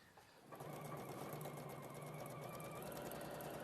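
Sewing machine stitching a garment's shoulder seam, starting up after a brief quiet moment and then running in a steady, even whir, close by with no talking.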